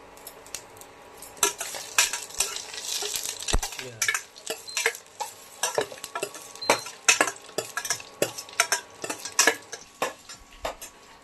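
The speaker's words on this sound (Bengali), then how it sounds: "তেজপাতা, গোটা জিরে দিয়ে দিলাম" Bay leaves and whole cumin dropped into hot oil for a vegetable moong dal khichdi, a light crackle under frequent clinks and scrapes of a spoon against the pot, close and busy, without voices.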